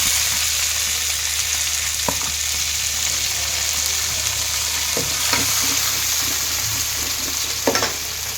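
Onion, garlic and tomato sauté steadily in a hot pan for a traditional urundai kuzhambu, a continuous close sizzle broken by a few soft scrapes and stirs.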